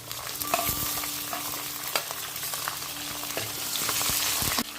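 Cinnamon and shallots frying for beef curry in a clay pot, a steady close sizzle broken by occasional scraping stirs and light clicks of a spoon.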